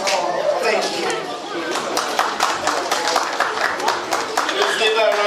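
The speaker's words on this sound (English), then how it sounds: "Let's give a round of applause." Audience applause at a Nigerian cultural association gathering in Edmonton, a dense, steady clatter of many hands sustained throughout, with some chatter mixed in.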